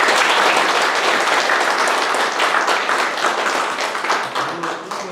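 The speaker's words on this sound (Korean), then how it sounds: "다시 한번 힘찬 송의 박수 부탁드립니다." An audience applauds at a 2023 Sejong City citizens' dialogue with the mayor in Sojeong-myeon: a dense, steady wash of many hands clapping close by, holding strong for about five seconds before tapering slightly at the end.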